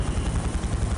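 Helicopter in a first-person shooter game, a steady dense rotor and engine roar with a low rhythmic thump, loud and continuous throughout, with no talk.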